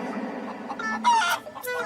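A chicken clucks several times in short, close bursts over a faint indoor background, with no talk during the calls.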